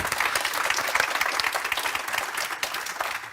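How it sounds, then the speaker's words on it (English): An audience at a panel discussion on location and the energy transition claps for the panelists, a dense, steady round of applause filling the room throughout, with a voice faintly underneath. "a round of applause for my panelists."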